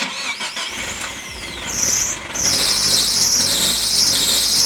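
A Nissan S15 with an SR20 engine revs hard and loud while its tyres squeal in long, rising shrieks that carry through the whole stretch.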